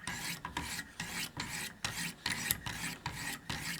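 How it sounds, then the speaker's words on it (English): A knife blade is drawn along a 200 grit diamond sharpening stone in steady alternating strokes, about eight rhythmic rasping passes, close and clear with nothing else in the background. "using 20 alternating strokes down the length of your bevel"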